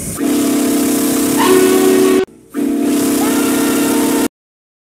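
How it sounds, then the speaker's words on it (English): Steam locomotive whistle blowing loud and close in a long sustained hoot with shifting pitch, briefly cut off midway, then sounding again before stopping abruptly. "Have you ever heard a steam locomotive play Jingle Bells?"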